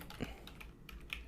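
Typing on a computer keyboard, a few quick key taps scattered over a second or so, close and fairly quiet, with no talking.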